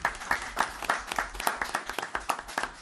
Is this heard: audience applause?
yes